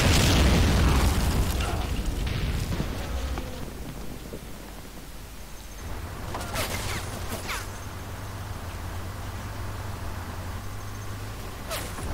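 A Tiger tank firing in the Men of War: Assault Squad battle game, a loud booming blast followed by a long rumbling decay, then a few sharper distant pops and explosions over a low battlefield drone.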